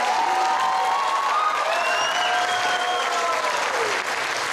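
An audience applauds a children's theatre troupe at the premiere of the Mtskheta children's theatre studio play "Komble". The clapping is dense and sustained throughout, with faint high tones running through it.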